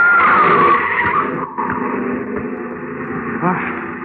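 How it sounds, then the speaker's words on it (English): A car sound effect in an audio drama: loud, high tires squeal and skid at the start, then an engine rumbles on with a brief dip and a second squeal near the end, under faint voices. "Look out, Governor, mind that car!"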